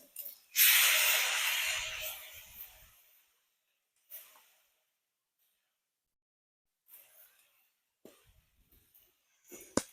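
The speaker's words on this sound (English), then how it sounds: "we're going to take them from there and we're going to start searing them" Steaks sear on a grill with a loud hissing sizzle that bursts in at once and slowly fades over a couple of seconds, followed by a few shorter, quieter sizzles and clatters.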